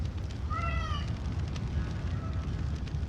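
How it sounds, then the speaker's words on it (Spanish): A weak, miserable-sounding cat meow from an audio drama, heard once as a short rising-falling cry over a constant low rumbling background, with a fainter brief trailing sound afterward. "Lo escuché volver a maullar,"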